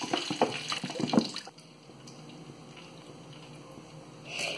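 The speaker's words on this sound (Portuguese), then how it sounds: "Vamos virar esse litro de óleo." A litre of used, strained frying oil poured out, a close liquid gurgle and splash at the start settling into a faint trickle and drip.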